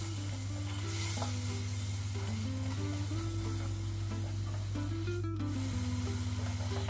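Masala with a little water frying in a pan as it is stirred for pepper lemon chicken, a continuous sizzle and rubbing scrape close by over a steady low hum, with no talk.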